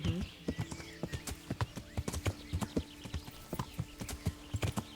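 Horse hooves clip-clop in a steady uneven rhythm as a rider travels through woods in Kingdom Come: Deliverance, the strikes close and distinct, with no talk over them.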